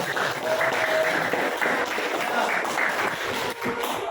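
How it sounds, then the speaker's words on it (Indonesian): Applause from a class of students honouring a teacher, a steady wash of clapping lasting a few seconds at moderate level, with faint voices mixed in. "tepuk tangan dulu untuk Pak Is"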